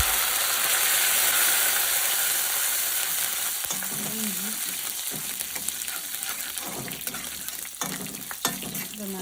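Mustard seeds and dried red chillies fry in hot oil in a pan, giving a continuous sizzle that softens partway through, with scattered crackles and pops and clinks of a stirring spoon.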